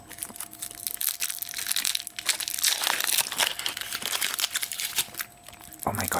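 Close, continuous crinkling and crumpling of the foil wrapper being peeled off a Kinder Surprise Maxi Minions chocolate egg, dense crackly bursts running throughout with no speech.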